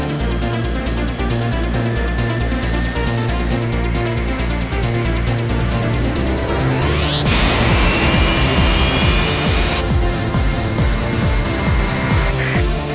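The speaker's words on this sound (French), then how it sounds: "Reçu, je décolle." Jet aircraft engine during takeoff, a loud, steady roar with a whine that climbs in pitch as thrust builds, a brief louder rushing surge in the middle, no voices over it.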